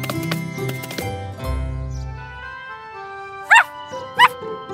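Two short, bright barks from a cartoon puppy, loud and close, each a quick separate burst over a soft background of children's show music and effects.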